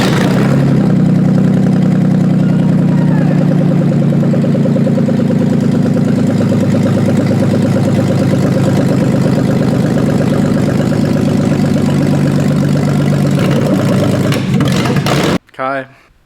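A BMW M50 car engine runs after finally starting, a loud close steady idle with a low throbbing hum that holds for about fifteen seconds before cutting off abruptly, followed by a brief bump.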